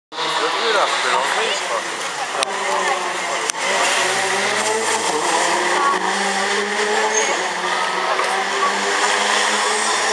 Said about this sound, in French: Alors que se lance la voiture